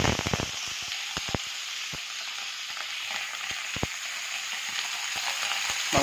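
Pieces of pork fry in hot oil alongside cut potatoes, a steady sizzle broken by sharp, irregular crackling pops that come quickly at first and then scatter, with no one speaking.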